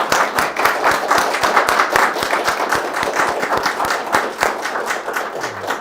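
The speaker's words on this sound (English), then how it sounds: "let's give these guys a big round of applause" Lively audience applause at a watch design event, brisk close clapping with distinct individual claps, and a few crowd voices mixed in.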